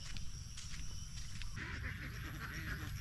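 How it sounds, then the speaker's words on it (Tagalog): Domestic ducks quack in a flock sheltering under mango and coconut trees, a soft, scattered chorus of calls over a low background with faint voices nearby. "yan na po yung ating mga itik pinasilong po natin dito sa ilalim po ng punong mangga at saka dito sa puno ng niyog"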